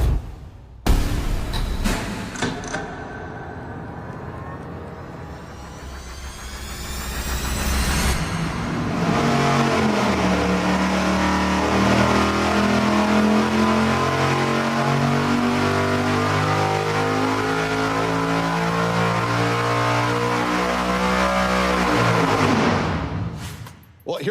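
A V8 engine fitted with very long tubes revs on an engine dyno, with a few sharp bursts before a loud, steady roar that climbs in pitch for about fifteen seconds and then cuts off abruptly.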